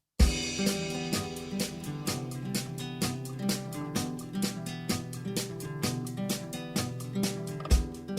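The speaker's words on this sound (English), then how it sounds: "What you're hearing is an exclusive version of a song called Convergent" Electronic track titled Convergent, heard as a steady rhythmic pattern of regular beats with sustained tonal layers, playing continuously without any voices.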